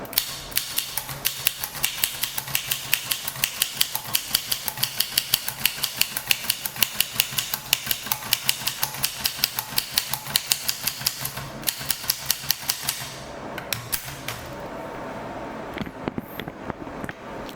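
Keys on an 1896 Williams No. 3 typewriter strike in a steady, rapid rhythm of crisp mechanical clacks. The run goes on for about twelve seconds, then breaks into a few scattered clicks and handling noise.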